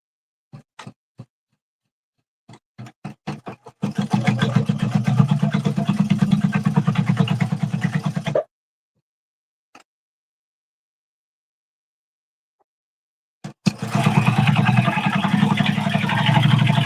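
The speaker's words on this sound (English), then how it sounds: "We're going to go ahead and get the lining stitched out." An embroidery or sewing machine stitches the lining of a handbag in two steady runs of rapid mechanical clatter, separated by pauses with a few isolated clicks and needle taps.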